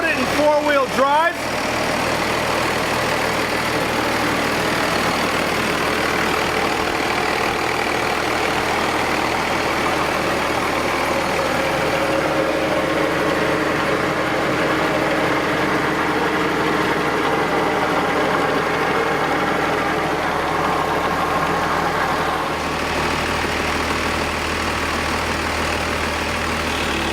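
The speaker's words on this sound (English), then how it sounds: "this little demonstration of the Power Wagon running concludes" A 1941 Dodge Power Wagon with a Cummins 6BT diesel conversion runs in four-wheel drive, giving a loud, steady low diesel drone that holds evenly for the whole stretch after a brief clunk at the start.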